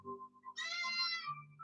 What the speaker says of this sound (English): Hey, kitty cat. Did you come to say hi before we do the tiger?